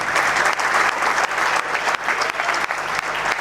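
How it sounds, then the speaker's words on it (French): Loud, sustained applause from a crowd of young people at a UDPS youth league political rally in Congo, dense steady clapping filling the whole stretch without speech. "Félix Antoine Tshisekedi, que je vous demande d'applaudir fort."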